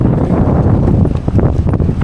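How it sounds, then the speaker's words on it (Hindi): Strong midday wind sweeps across an empty sandy beach in Goa, a continuous close buffeting roar that rumbles and gusts against the microphone, with no talking. "क्या हवा चल रही है, ज़बरदस्त हवा"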